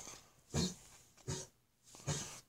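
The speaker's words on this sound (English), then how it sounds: "That's my dog in the background hacking." A dog hacking somewhere in the background, three separate rough coughing bursts spaced evenly apart, faint and distant in an otherwise quiet room.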